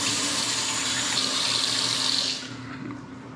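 Water from a tap runs steadily into a sink while someone rinses off after a wet shave, a loud, close hiss that softens partway through as the flow is interrupted.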